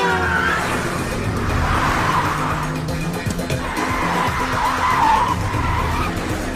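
A car driven fast in a movie chase, with loud continuous tire skidding and squealing over engine roar, sustained and close throughout.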